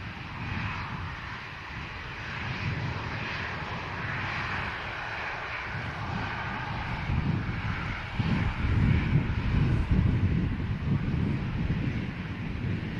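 A KLM Airbus A321neo touches down at Manchester Airport, its engines giving a steady distant roar with wind noise, swelling somewhat louder partway through.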